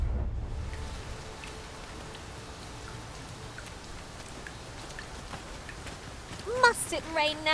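Steady rain hisses and patters in the game Dragon's Dogma 2, a soft continuous wash of drops on surfaces, with brief chirping tones near the end.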